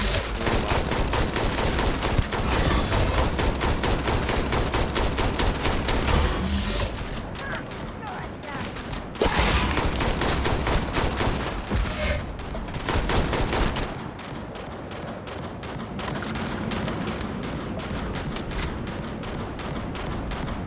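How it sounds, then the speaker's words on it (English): Sustained gunfire in the video game Starfield, dense rapid bursts of automatic shots filling the whole stretch with only brief lulls, loud and continuous, with voices talking underneath. "Yeah, I'm hearing shooting."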